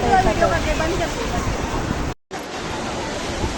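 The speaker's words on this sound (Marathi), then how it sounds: "लाट आली लाट आली" Loud, rushing roar of ocean surf breaking on Juhu Beach, Mumbai, mixed with wind buffeting the microphone and a faint murmur of people, cut by a brief dropout.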